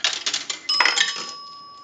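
A single bell strike from a Northern Electric three-slot payphone registering a nickel, with metallic coin clatter at the start and then one bright ring that lingers and slowly fades, close and alone with no talk.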